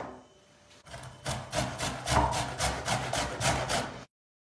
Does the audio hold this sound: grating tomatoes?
yes